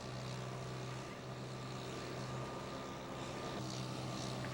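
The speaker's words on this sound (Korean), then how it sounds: "하지만 거침없이 밀고 들어오는 트랙터를 막을 도리가 없다." A tractor engine drones steadily as it moves into a rice paddy, a low continuous rumble with faint mechanical hum at a moderate distance, unbroken for a few seconds with no speech.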